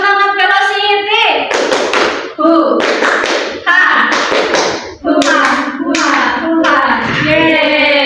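A classroom group chants together while hands clap in a quick rhythmic pattern, with a few short spoken calls between the chants.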